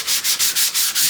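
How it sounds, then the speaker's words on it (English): Hand sanding of a finish coat on wood veneer: six steady back-and-forth rasping strokes in an even rhythm, close and fairly loud, with no voices. "Okay, now that's kind of a quick sanding."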